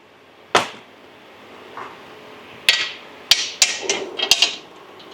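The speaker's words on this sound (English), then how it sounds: "So we've just got a little socket driver here." A small socket driver fastens M5 bolts with 8mm heads on a 20-inch electric trike, giving a handful of sharp, separate metallic clicks and taps that grow busier toward the end against a quiet background.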